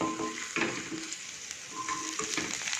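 Onion and capsicum cubes sautéing in a pan, with a steady close sizzle and a few scraping stirs of a spoon, no talking.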